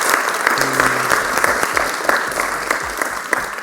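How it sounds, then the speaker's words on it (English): An audience at a university debate breaks into steady applause after the result is announced, a dense, continuous patter of clapping from a room full of people, close and loud, with faint voices underneath. "Let's give a round of applause for side proposition."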